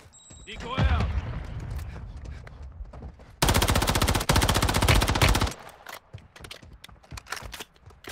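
Heavy automatic gunfire with a grenade blast in the Warzone Mobile shooter game, a dense sustained burst of rapid shots mid-clip amid scattered game effects, with a voice talking over parts.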